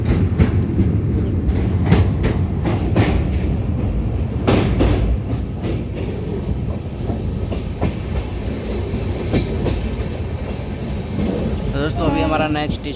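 Kanpur Bandra SF Express train running on track through dense fog in Rajasthan, with steady loud rumble and repeated clickety-clack wheel beats over rail joints, heard from inside the moving coach with faint voices in the background.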